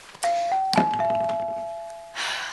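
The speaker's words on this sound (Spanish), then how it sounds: "¡Timbre!" A doorbell rings indoors with a clear two-tone chime that holds and slowly fades, set between a couple of soft thumps near the door.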